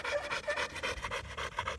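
An American Bulldog on a farm pants rapidly in an even rhythm, quick breathy huffs close and fairly soft, with no talking.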